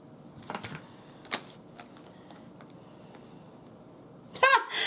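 A few brief riffling bursts of cards being shuffled, soft and close, separated by quiet pauses, with a short louder clatter near the end.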